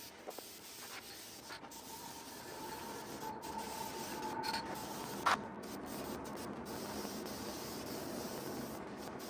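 Primer sprayed from a rattle can onto a car's fender: a continuous, close hiss of aerosol spray holding steady across the whole stretch, with one brief sharp tick partway through and no voices.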